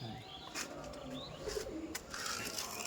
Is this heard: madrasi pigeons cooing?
yes